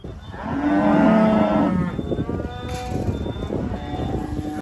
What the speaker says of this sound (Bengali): কি ফিল করলেন গরুগুলো ডাকাডাকি করতেছে